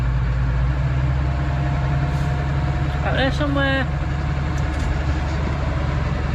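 A Fordson Major tractor engine runs steadily before subsoiling, a loud low rumbling drone held at constant revs close by, with someone speaking briefly over it.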